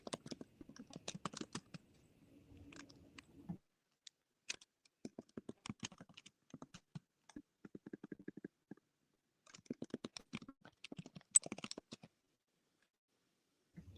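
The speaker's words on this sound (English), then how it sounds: "We can hear you typing, sis." Fingers type on a computer keyboard in quick irregular bursts of close clicks separated by short pauses, faint and alone, with a soft low rumble at times.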